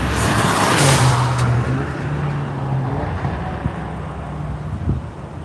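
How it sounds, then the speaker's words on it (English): A Fields Auto Works Cardinal Coupe race car at NCM during One Lap of America sweeps past on the track, its engine note loud and close at first then fading away, with wind buffeting the microphone. "Here comes the Cardinal Conclave, Fields Auto Works Cardinal Coupe."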